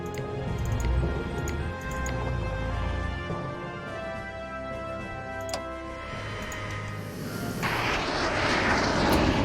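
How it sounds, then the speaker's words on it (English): Propeller drone of an aircraft engine in the strategy video game Shattered Union, a steady continuous hum with faint ticking over it that swells into a broader, louder roar near the end; no talk. "Come on, plane, get a move on."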